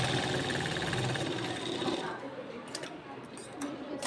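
Sewing machine stitching the shoulders of a designer suit, a steady fast whirring run for about two seconds that then stops, leaving a few faint clicks and someone speaking quietly over it.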